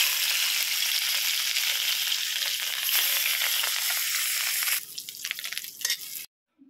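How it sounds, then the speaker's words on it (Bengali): Pieces of banana stem rubbed with salt and turmeric fry in a pan with a dense, steady sizzle and crackle for several seconds. The sizzle thins and turns patchy toward the end, then stops abruptly. "নুন হলুদ একটুখানি মাখিয়ে দিয়েছি আর একটু ভালো করে ভেজে"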